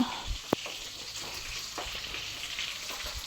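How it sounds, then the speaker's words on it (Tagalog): Fish fries in a pan, a soft continuous sizzle and crackle with a few sharper pops near the start, close and quiet with no talking. "Nagprito po ako ng isda, guys."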